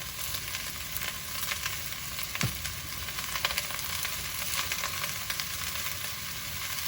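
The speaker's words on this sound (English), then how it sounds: "Just sprinkle all over the vegetable and saute them until translucent" Chopped vegetables for a vegan seafood gumbo sauté in a hot pan, giving a steady, soft sizzle and crackle close by with occasional stirring, no voices.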